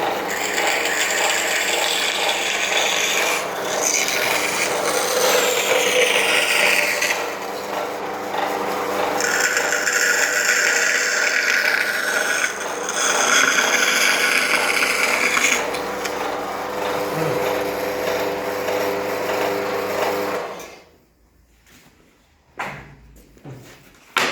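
Loud, continuous rasping of a power tool cutting through wood for a boat build, with pitch shifts as the blade bites, then stopping abruptly near the end followed by faint clatter.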